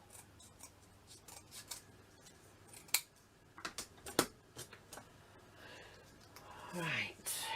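Scissors trim excess material from a handmade miniature Christmas village piece in a few faint, close snips and ticks, with a louder rustle near the end.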